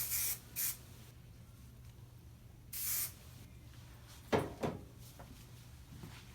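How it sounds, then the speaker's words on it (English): Short pressurised hisses of Amika Headstrong hairspray on a braid: two quick bursts, a longer spray, then a sharper sputtering pair of puffs near the end, close and otherwise quiet. "I'm going to spray some of the Headstrong,"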